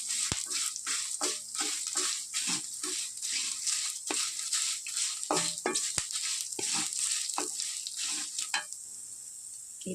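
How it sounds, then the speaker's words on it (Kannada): Spices and other ingredients for Udupi-style basale soppu saru fry together in oil, a constant sizzling hiss broken by rapid, repeated clicks and scrapes of a spatula stirring the pan, close and steady. "ಈಗೆಲ್ಲ ಒಟ್ಟಿಗೆ ಹಾಕ್ಕೊಂಡು ಚೆನ್ನಾಗಿ ಫ್ರೈ ಮಾಡ್ಕೊಳ್ತಾ ಇದ್ದೀನಿ."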